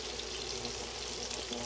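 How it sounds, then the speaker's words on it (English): Chicken frying in hot grease gives a steady, dense sizzle with scattered small pops, close and continuous with no talk. "I know y'all hear that sizzling, that pop"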